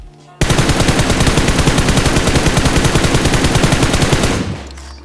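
Automatic gunfire in the video game PUBG Mobile bursts in abruptly as one loud, rapid, unbroken stream of shots lasting about four seconds, then cuts off and fades.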